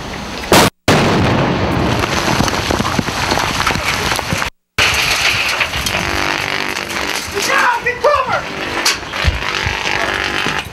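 A loud, roaring blast with heavy rumbling and crackling noise fills the clip, broken by two brief silent cuts, from an explosion on a deserted street in a combat zone.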